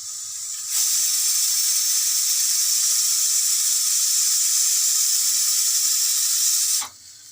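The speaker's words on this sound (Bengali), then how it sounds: "ডিমের অমলেট করে দিচ্ছি বন্ধুরা" An egg omelette fries in a pan with a loud, steady hiss that starts abruptly and holds unbroken for about six seconds before cutting off, with no talking over it.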